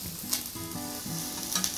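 Pork belly sizzles on a Korean waffle machine with a dense, close, continuous frying hiss. Faint low hums and clicks run beneath it, and there is no talk.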